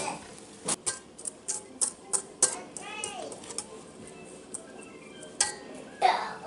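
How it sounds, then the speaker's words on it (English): A whisk rattles and clinks against a bowl while dry ingredients of flour, sugar and salt are mixed, giving a run of sharp metallic taps at a steady pace, close and fairly loud, with a short stretch of background voice partway through. "Then you are going to whisk your dry ingredients together"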